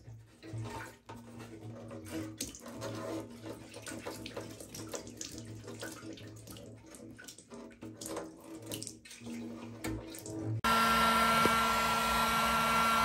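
Water sloshing and draining from a rusted 1981 Honda XL500S motorcycle fuel tank during rinsing, an uneven rushing, gurgling flow, followed near the end by a steady loud blowing roar like a heat gun.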